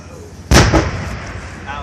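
A Leopard C2 tank's main gun fires during a competition at CFB Gagetown, a single sharp loud boom followed by a brief echoing crack and a trailing rumble, heard from a moderate distance.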